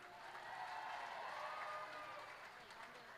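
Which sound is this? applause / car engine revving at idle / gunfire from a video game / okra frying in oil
applause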